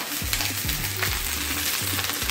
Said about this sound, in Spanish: De ahí le vamos a echar las calabacitas. Le vamos a echar las calabacitas para que